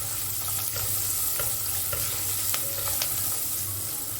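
Whole shallots sautéing in a pan for a Kerala-style meal, a steady close sizzle with light stirring clicks and scrapes throughout, no voices.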